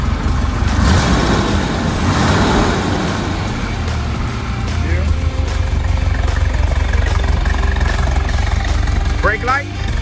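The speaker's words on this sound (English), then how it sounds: "Give it a rev." A 1972 Chevrolet Corvette LT-1 engine rumbles loudly and continuously up close, rising slightly into a rev, with a voice briefly talking over it.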